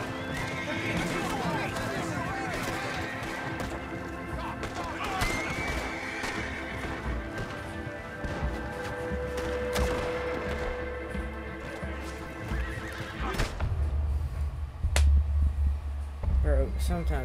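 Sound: horse neighing and hooves clip-clopping in a video game

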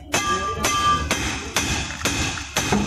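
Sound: hammer striking a loose driveshaft coupling

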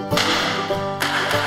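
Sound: stock whips cracking while driving cattle

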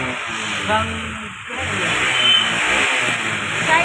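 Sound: vehicle engine revving

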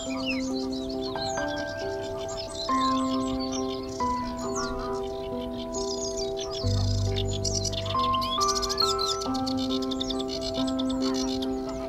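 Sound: warblers singing

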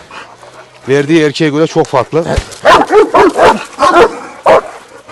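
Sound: dog barking, Kangal cross

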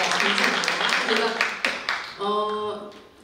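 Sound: audience clapping

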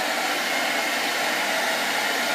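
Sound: hair dryer blowing on air rifle pellets

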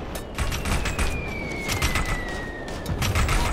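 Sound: gunfire in the video game Operation Flashpoint: Red River

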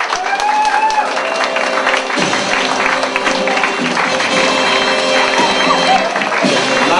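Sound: audience applause at TV show party

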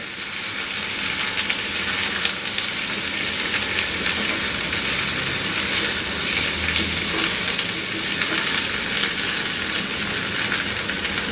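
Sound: sautéing teasel gourd (kakrol) in a pan

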